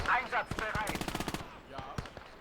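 Machine gun fire from a half-track's mounted MG in the World War II game Gates of Hell, a quick rattling burst of evenly spaced shots after a voice, fairly faint and close.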